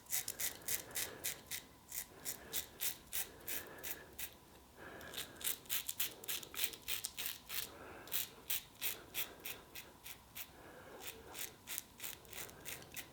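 A Gillette Techmatic safety razor scraping through lather of vetiver shaving soap, with rhythmic repeated strokes of crisp, raspy scratching, close and fairly quiet, alone with no talk.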